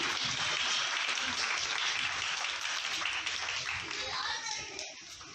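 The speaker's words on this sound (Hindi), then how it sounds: "एक बार जोरदार तालियां बजाएं सभी।" Loud applause from an audience at a retirement function honoring a district homeopathic officer, dense clapping filling the room for about five seconds before tapering slightly, with a few voices mixed in.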